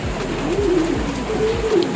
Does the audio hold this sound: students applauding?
no